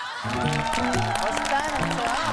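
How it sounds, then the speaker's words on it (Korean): An audience applauds steadily at a Korean TV singing-competition semifinal, the clapping sustained and fairly even under loud stage music with no break. "열심히 하시라고 박수 보내주네요"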